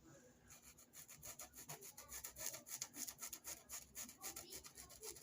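Sandpaper scrubbing scuffed Prada sneakers in quick back-and-forth strokes, a close, soft rasping rhythm that continues steadily without talk.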